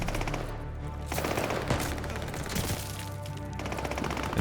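Gunfire from Call of Duty: Vanguard with an AK74u, heard as dense rapid automatic bursts with short pauses, loud and continuous across the whole stretch.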